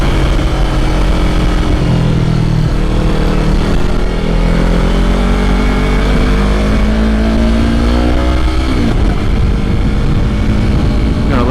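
A 2020 Yamaha YZF-R3 motorcycle engine runs loud and close throughout, with rising and falling revs and a sharp pop near the end.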